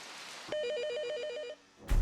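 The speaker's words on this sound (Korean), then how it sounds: "전화벨이 울리고 연구원들이 황급히 자리를 떠납니다." A telephone rings once in a research centre, a close, bright electronic warble lasting about a second, followed by a short thump and rustle as someone moves.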